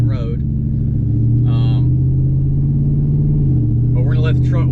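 A truck's engine rumbles steadily at low idle-like revs as it pulls onto the road, a deep constant drone with a slight dip near the end, while someone talks intermittently over it.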